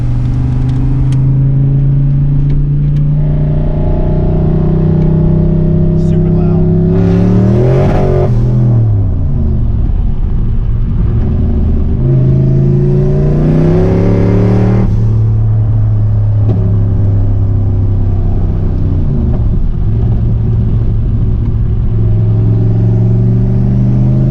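A turbocharged Fox-body Ford Mustang engine idles with a deep rumble, then revs hard twice in loud surges before settling back to a steady throbbing idle, close up.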